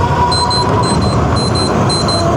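Repeated electronic beeping from a drone, sounding in short bursts of high tones over steady wind and road noise during an e-bike test ride, with no talk.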